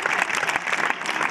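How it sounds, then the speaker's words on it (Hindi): Loud, steady applause from a school audience celebrating a class 9 student's national-level archery prize at an annual sports day, a dense continuous clatter of clapping with no voices over it. "एक बार इसके लिए जोरदार तालियां"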